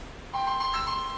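A phone ringtone starts abruptly after a brief quiet moment, a bright electronic tone sustained and fairly close.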